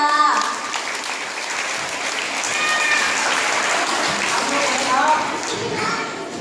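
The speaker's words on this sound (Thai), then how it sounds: "ขอเสียงปรบมือให้พี่ๆทุกคนด้วยค่ะ" An audience applauds the performers of a Thai stage play about the sea ogress Phisuea Samut. Loud, continuous clapping runs throughout, with voices calling out over it.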